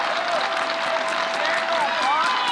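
Alabama home crowd at a college softball super regional game against Kentucky cheering and applauding loudly, a dense steady roar of claps and shouts filling the whole stretch with faint whistles rising through it.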